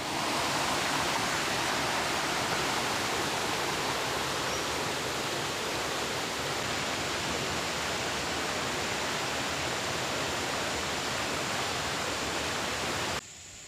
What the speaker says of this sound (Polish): Co kawałek spływa z góry strumień i to potężne strumienie.